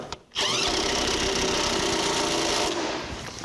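Body mount bolts on a 1982 Jeep CJ7 being run up with a power tool, a loud continuous whirring buzz of about two seconds, close by, starting and stopping abruptly.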